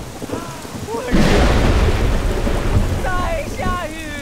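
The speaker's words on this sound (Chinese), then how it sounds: "在下雨了呢！" Thunder cracks suddenly and loudly, then gives way to a heavy, steady downpour of rain on an outdoor period scene, with a voice calling out over the storm near the end.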